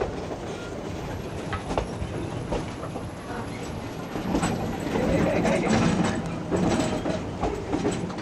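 Durango and Silverton railroad train rolling along its tracks in the Rocky Mountains, a continuous loud rumble with rhythmic wheel clatter and faint metallic squeal, heard from on board.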